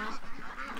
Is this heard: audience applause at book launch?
no